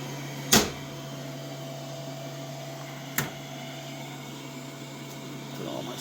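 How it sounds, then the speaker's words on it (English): Doors on a Roland BN2-20A printer are shut after repair work: one sharp close thump, then a second softer one a few seconds later, over the steady hum of the machine. "now we close all the doors"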